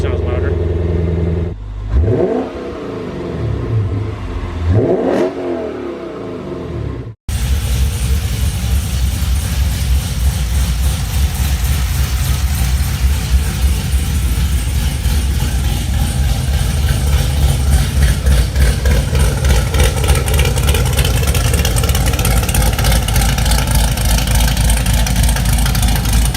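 Car engine with newly fitted TIG-welded stainless exhaust piping, a loud steady drone that rises and settles as it revs and idles, filling most of the stretch after a brief opening with people talking over a quieter background.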